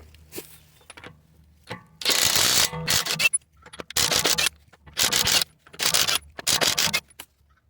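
A 21 mm impact wrench loosening the wheel nuts on a Nissan, five loud, close rattling bursts of hammering, each about half a second to a second long, separated by short quiet gaps and faint handling noises.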